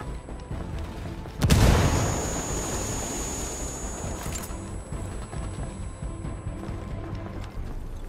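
A frag grenade in Ghost Recon Wildlands goes off as a single loud, close boom, then a long rumbling tail of debris and ambient wash fades slowly over several seconds.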